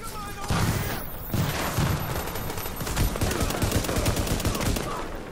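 Heavy gunfire in the shooter Tom Clancy's The Division, a close, loud burst followed by rapid automatic bursts, with a voice speaking briefly over the shooting.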